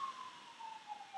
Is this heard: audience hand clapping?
no